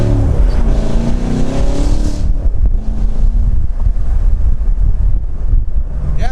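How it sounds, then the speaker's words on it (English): A C7 Corvette running an AWE catless X-pipe exhaust gives a steady, loud low rumble that drops into a rougher, windier drone partway through. No one speaks. "the exhaust sounds smoother"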